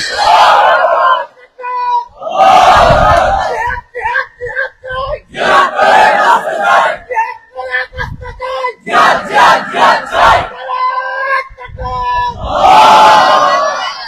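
A large religious gathering answers a speaker's Naraye Takbir call with loud roaring shouts of Allahu Akbar, the crowd's bursts alternating with gaps in repeated waves.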